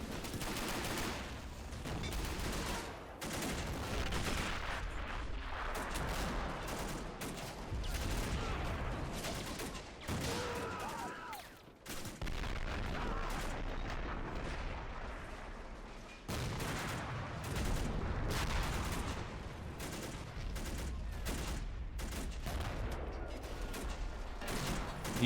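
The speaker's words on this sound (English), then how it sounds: "The U.S. are bombarding the gun position right now." Artillery bombardment and gunfire in the World War II strategy game Men of War, a siege on twin mountain fortresses: dense overlapping blasts and shots keep crackling and booming, with a short lull near the middle.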